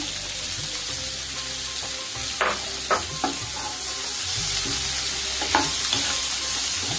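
Potatoes and okra sizzling in an oiled pan for masala bhindi, with a steady hiss and a few sharp spatula scrapes and knocks as the pieces are stirred, close and alone.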